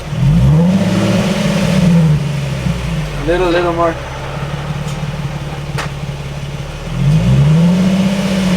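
Subaru sedan being parked at home: a close engine idling and revving in short bursts, with brief voices over it as someone gives parking directions.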